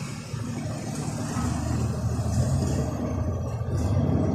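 Mitsubishi Fuso Super Great truck with a 6M70 turbo diesel idling nearby, a steady low rumble with mid-range churn throughout, no voices.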